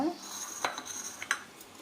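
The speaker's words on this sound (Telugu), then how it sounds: "గిన్నె పెట్టానండి పొయ్యి మీద" A few light metallic clanks and knocks of a pot being set down on a gas stove, brief and close, in an otherwise quiet kitchen.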